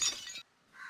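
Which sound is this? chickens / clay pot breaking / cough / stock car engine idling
clay pot breaking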